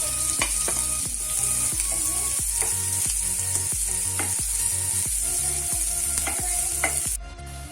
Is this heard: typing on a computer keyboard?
no